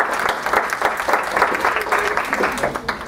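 Applause from a lecture audience greeting a speaker's introduction, steady dense clapping throughout, fairly loud and close, with no pauses.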